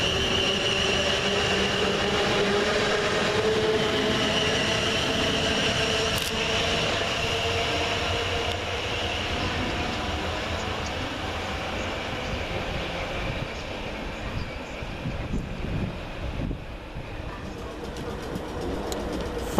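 A pair of South Western Railway Class 450 electric units passes through Surbiton station, a steady loud rolling rumble with motor whine and faint wheel clicks throughout.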